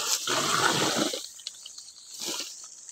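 Water rushes through a drip irrigation line in two surging bursts, a loud gushing flow that drops away briefly before returning more weakly.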